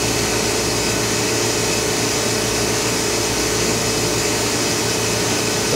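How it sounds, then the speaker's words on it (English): Steady broadband whooshing and humming of an Oxford Plasmalab 133 ICP 380 etch system's vacuum pumps as the chamber pumps down to base pressure, a constant even drone with no voices. "So the chamber is pumping down to base pressure."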